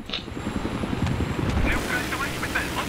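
A helicopter in the video game Battlefield 3 drones with a steady, rumbling rotor and engine sound, fairly loud, while people talk excitedly over it.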